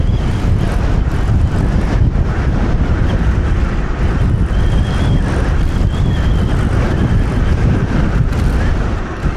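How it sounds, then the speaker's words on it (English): Heavy wind roars across the microphone during a foggy ride on a TRBK-M2 hyperscooter, a loud, constant buffeting rush with low rumble and fluctuating gusts throughout. "And it's windy too, bro."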